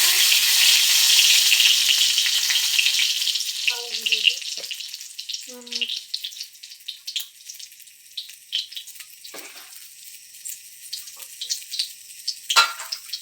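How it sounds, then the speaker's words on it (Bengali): Dried red chillies hit very hot oil with a loud hiss that fades over several seconds into sparse crackles and pops, a couple of faint clinks mixed in. "তেলটা অনেক গরম হয়েছে এই যে দিয়ে দিলাম শুকনো লঙ্কা"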